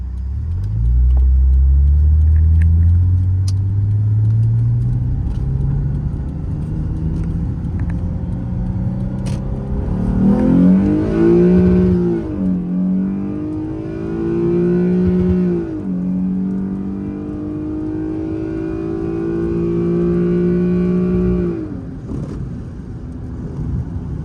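A Lexus IS350 engine revs hard toward 7,000 rpm, its pitch climbing steadily, dropping at a shift, then rising again in repeated loud, close pulls with no talking.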